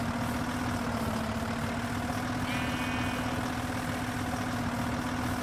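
A modded car engine idles in Minecraft, a steady, loud, low droning hum with an even pulsing throb that runs unbroken throughout, with no other sounds over it.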